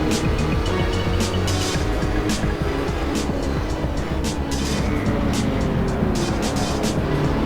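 BMW and Lotus GT3 race cars in Assetto Corsa at Eastern Creek accelerate hard, a dense, continuous engine roar with layered motors and faint tire noise filling the whole stretch.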